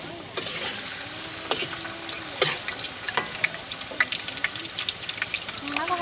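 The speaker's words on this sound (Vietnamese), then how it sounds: "Giờ mình sẽ để vô chiên." Tilapia pieces frying in hot oil, a steady close sizzle with occasional sharper pops and crackles throughout, while voices talk lightly over it.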